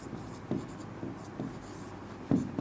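Marker strokes squeak and tap across a whiteboard during a chemistry lesson on vapour pressure, several short scratchy bursts in an uneven rhythm, fairly close and moderately loud with no voice over them.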